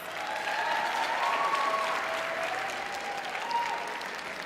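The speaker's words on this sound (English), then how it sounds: "Please give him a round of applause." A round of applause at an awards dinner, full and steady clapping from a room of guests lasting several seconds, with faint tonal calls rising over it.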